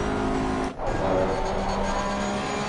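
Race cars lap Laguna Seca in the Assetto Corsa Competizione racing game, with loud, continuous engine drone and a car sweeping past with a brief dip in sound, under a commentator's voice.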